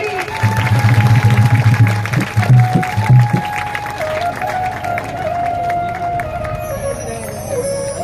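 A crowd claps and cheers at a Bhagwat Katha gathering on its last day at a village cow shelter. The applause is loudest early on, mixed with a steady musical drone, then thins into a softer murmur of clapping and hubbub.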